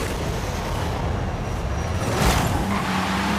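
Car engine roaring steadily during a race in Forza Horizon 5, a continuous loud drone with shifting pitch and a brief surge near the end, no voices.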